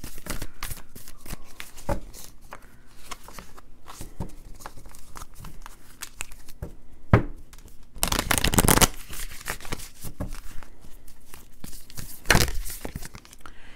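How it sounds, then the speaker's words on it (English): Tarot cards are shuffled up close, soft riffles and crisp flicks in irregular bursts, with two louder riffling flurries standing out. "Just shuffle them a little more."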